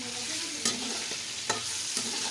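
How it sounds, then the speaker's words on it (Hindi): Chicken pieces frying with salt in a hot pan, a dense continuous sizzle close up, broken by three sharp scraping stirs of a spoon at irregular intervals. "इसको अच्छी तरह से थोड़ी देर रोस्ट कर लें चिकन को"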